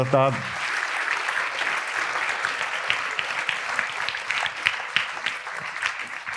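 A school audience at a sixth-grade information evening claps for students, a brief spoken word at the start giving way to sustained, dense applause from a sizeable crowd in a hall, steady and moderately loud.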